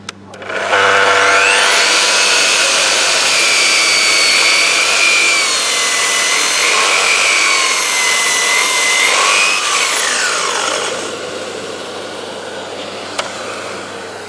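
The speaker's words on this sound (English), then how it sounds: "we have a lot of power with the HK85 to cut through" A Festool HK85 pendulum cover saw with a 2,300 watt motor rips through thick timber along a parallel fence. It gives a loud, steady, high-pitched whine for about ten seconds, then winds down as the cut ends.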